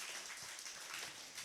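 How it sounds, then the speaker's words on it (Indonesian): A church congregation applauds during a Sunday worship service, a faint, continuous patter of many hands clapping, heard from a distance and briefly. "Beri tepuk tangan dulu untuk Tuhan."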